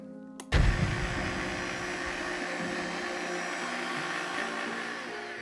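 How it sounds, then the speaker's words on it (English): An electric blender whirring through cocktail syrup with no heat: a sudden start, then a loud, steady motor roar with a thick churning whine that holds without pause to the end. "you're gonna blend this, no heat needed, for about 4 minutes"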